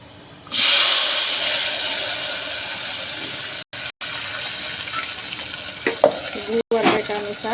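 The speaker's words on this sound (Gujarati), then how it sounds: "ગેસ ઉપર કુકર રાખ્યું છે, તેલ નાખી દીધું છે અને એમાં નાખવાનું છે લસણ." Garlic drops into hot oil in a pressure cooker on a gas stove and bursts into a loud, steady sizzle that carries on, with a few clinks and stirring sounds near the end.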